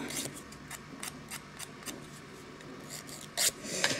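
A fingernail is filed with a nail file, soft quick rasping strokes repeated in a light irregular rhythm, close and quiet, with a couple of sharper scrapes near the end.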